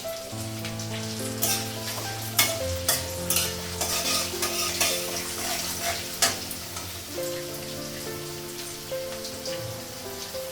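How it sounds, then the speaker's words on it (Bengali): Lentils and potatoes crackle and sizzle in hot tempering oil in a wok as they are stirred for a Bengali cabbage curry, a steady close frying hiss with scraping stirs, while music runs underneath. "আর ডালটা হচ্ছে ফোড়নে দিলাম।"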